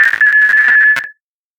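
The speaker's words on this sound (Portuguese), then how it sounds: "o árbitro deve apitar a falta" A referee's whistle blown once in a steady, shrill tone that holds for about a second, loud and close, then stops sharply into silence.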